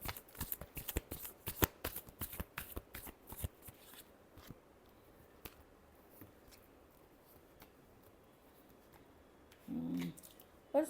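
Tarot cards shuffled by hand in a rapid riffling burst of crisp flicks for about four seconds, followed by quieter handling and a brief low thump near the end.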